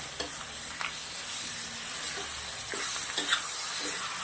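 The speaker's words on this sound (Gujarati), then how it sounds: "હવે મિક્સ કરી દઈશું." Spoon stirring dry potato curry with yogurt spices and fresh coriander leaves in a hot pan, soft scraping strokes over a steady close sizzle of frying, no voices.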